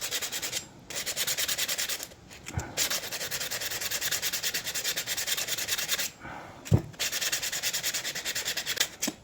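Heavy-grit sandpaper rubs over the faces of a Land Rover Defender TD5 130 Hi-Cap stub axle, a close, steady rhythmic scratching in back-and-forth strokes with a few brief pauses and knocks.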